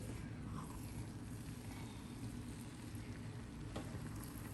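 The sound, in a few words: stirring chicken tikka biryani in a small pot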